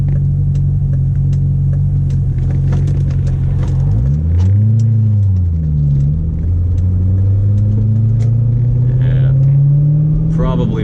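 A C6 Corvette with an SLP exhaust rumbles on the road, a deep steady drone that swells and rises in pitch as the revs climb, with a voice speaking over it.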